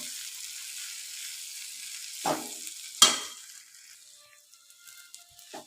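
Ivy gourd and grated coconut being stirred in a frying pan, a faint low sizzle broken by two distinct spatula scrapes, then quieter frying.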